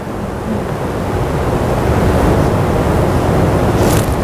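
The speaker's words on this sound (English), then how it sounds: "you can stand inside this waterfall completely surrounded by moss-covered rocks with the water pouring down all around you" An Icelandic waterfall pours over moss-covered rocks in a loud, steady, close rushing roar that builds slightly and continues unbroken, with no voices.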